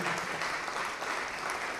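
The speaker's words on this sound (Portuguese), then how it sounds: "Vamos aplaudir o Senhor Jesus por cada vida que está chegando." Church congregation applauding together in dense, steady clapping that fills the space evenly, a continuous wash of hands with no voices standing out.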